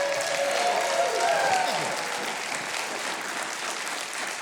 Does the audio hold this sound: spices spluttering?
no